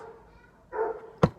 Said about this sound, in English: That dog stopped barking finally